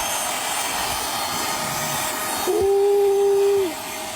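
A vacuum cleaner with a small nozzle fitted runs close by with a loud, steady roaring hiss, then a brief higher whine rises as the nozzle seals against something before it eases off.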